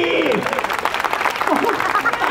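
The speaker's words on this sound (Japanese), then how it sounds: "ありがとう、その拍手。" Street-performance crowd in Yokohama claps for a pole act, a steady patter of applause running through the short stretch while a performer's voice talks loudly over it.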